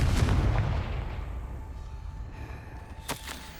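A Confringo fire spell blasts in the Hogwarts Legacy video game, a loud booming explosion that rumbles and slowly decays, followed by a brief sharp crack near the end.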